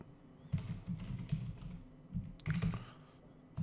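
Typing on a computer keyboard while entering a PHP number: a quick run of soft, closely spaced key clicks, near and fairly quiet, with a brief pause and a final flurry of taps.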